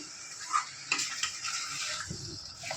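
Sour yogurt is whisked in a bowl, giving soft irregular clicks and scraping taps over a quiet kitchen background, close and faint.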